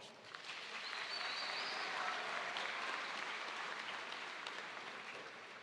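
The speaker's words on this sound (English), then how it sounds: "So give yourselves a round of applause" Faint, distant applause from a graduation crowd at a school of science and medicine ceremony, a steady even wash of clapping lasting several seconds.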